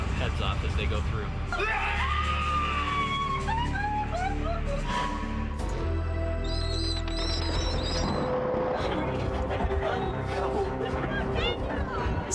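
Crowd of guests screaming and shrieking inside a Halloween haunted attraction, loud overlapping yells and high whoops that run continuously with dense background noise throughout.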